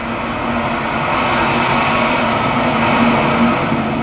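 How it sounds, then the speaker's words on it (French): Three huge tanker trucks roll past as a steady, loud engine drone and road roar that holds evenly for several seconds without a clear break between vehicles. "Trois énormes camions citernes passent."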